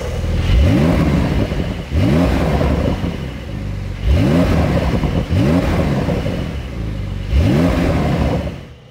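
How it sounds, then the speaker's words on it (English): A Porsche 992 GTS with Lightweight Pack exhaust revs hard several times in a row, each rising roar falling back to a throaty idle, loud and close with no talking. "Let's turn it on and see what this exhaust is like."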